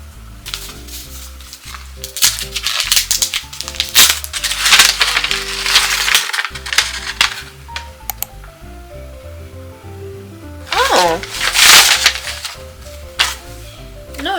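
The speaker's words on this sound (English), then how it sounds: "Okay, it's time to unwrap." Paper wrapping is torn and crinkled off a book, with loud close rustling and ripping bursts in uneven clusters and a few quieter pauses between them.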